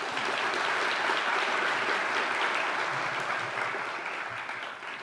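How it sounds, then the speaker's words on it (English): A crowd claps steadily for several seconds in a continuous wash of applause that slowly fades toward the end. "Let's give them a round of applause."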